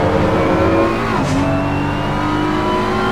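A BMW GT3 race car in a racing video game at Imola roars past with a loud, sustained engine drone, its pitch sliding down as it goes by.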